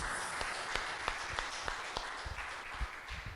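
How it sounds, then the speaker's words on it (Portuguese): Applause for Jesus during a church service, a diffuse wash of congregational clapping with a few sharper claps standing out in a loose rhythm, moderately faint and slightly distant, with no talking over it. "Uma salva de palmas ao Senhor Jesus"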